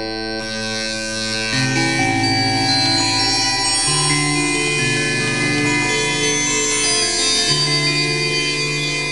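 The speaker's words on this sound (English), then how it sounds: "Now, frequency mod FM sounds like this." An Access Virus 2 desktop synthesizer plays a frequency-modulation patch with dense, metallic, bell-like tones. The sound is loud and continuous, its layered pitches shifting in steps through a sustained phrase, with no one speaking over it.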